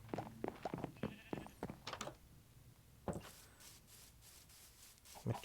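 A Minecraft sheep (a two-headed variant) bleats in several short, fairly close calls in the first half, followed by softer game sounds and clicks, with no talk.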